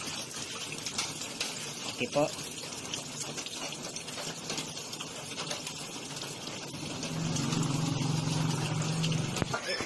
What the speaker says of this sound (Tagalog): Ayun, nagkarga na po siya ng tubig.